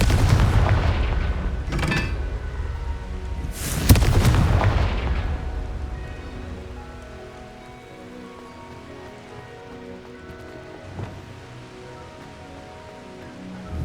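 Booming blasts from the Confringo fire spell in the game Hogwarts Legacy: two loud, sharp explosions close together early on, then a long rumbling decay and a fainter crack later, with no talk.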